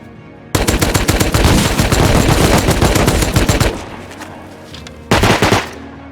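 Automatic AR rifle fire in the Rust survival game: a loud, close, continuous burst of rapid shots lasting about three seconds, then a short pause and another brief burst.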